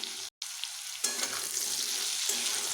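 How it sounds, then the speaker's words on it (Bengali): Potatoes seasoned with salt and turmeric sizzle steadily in hot oil, with brief stirring scrapes; the frying swells louder after a short pause and continues evenly, close up with no voices. "এবার একটু নেড়ে আলুগুলোকে বেশ ভালোভাবে ভেজে নেব"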